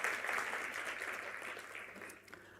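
Steady applause from a crowd at an enterprise development programme launch, fairly distant and even, tapering slightly toward the end.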